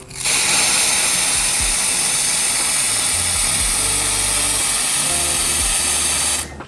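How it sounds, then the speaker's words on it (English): A laser welder with an oscillating beam, used during a supercharged LS Patrol engine swap, makes a loud, continuous high-pitched hiss and buzz that starts suddenly, holds steady for several seconds, then cuts off, with no voices. "I've got a laser welder. Show me how it works."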